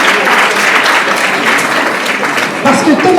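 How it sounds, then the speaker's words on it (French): Dense applause from a conference audience welcoming a speaker, continuous and fairly loud throughout, with a voice briefly heard near the end. "vous pouvez applaudir Thomas Romer avant même de l'avoir entendu"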